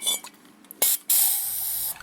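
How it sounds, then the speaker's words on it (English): Cleaner sprayed from an aerosol can into the EGR ports of a Ford F150 with a P0401 insufficient-flow fault, heard as close hissing bursts: two short sprays, then one long steady blast. "So what I'm spraying in right now is actually, so those two ports that I'm cleaning are actually the EGR ports."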